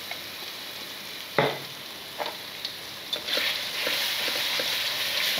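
Ground spice paste of garlic, coriander, pepper, candlenut, turmeric and ginger sautéing in a pan, a steady close sizzle with a few sharp stirring scrapes and clacks scattered through, growing a bit louder toward the end.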